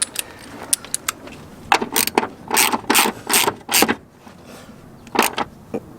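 Ratchet tightening the top mount of a coilover on a Volvo 960 V8 car during installation: close, uneven bursts of clicking and metallic rattle, several in quick succession, with short pauses between.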